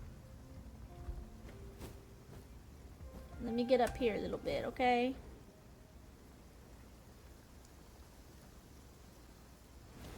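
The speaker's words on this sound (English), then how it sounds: "Oh, I'm being rained on." Rain falls in the video game Genshin Impact as a faint, steady hiss throughout, briefly covered by a person talking in the middle.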